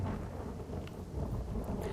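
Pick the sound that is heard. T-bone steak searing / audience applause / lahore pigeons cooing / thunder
thunder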